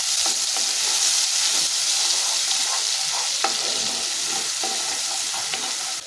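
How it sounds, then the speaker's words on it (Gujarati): Loud, continuous sizzling as a spice paste with asafoetida fries in a hot pan, broad steady hiss with occasional scraping stirs close by and no talking. "હવે આપણે જે પેસ્ટ બનાવીને રાખી છે તે ઉમેરી લઈશું। બધું મિક્સ કરી લઈશું।"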